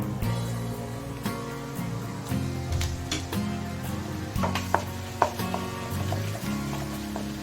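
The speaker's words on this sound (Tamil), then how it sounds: "ஆயில் நல்லா ஹீட் ஆயிடுச்சு இந்த ஸ்டேஜில் நம்ம கடலைப்பருப்பு உளுத்து பருப்பு ரெண்டையும் ஆட் பண்ணிக்கலாம்" Chana dal and urad dal frying in hot oil in a pan, a steady low sizzle and crackle with occasional clinks of a utensil against the pot.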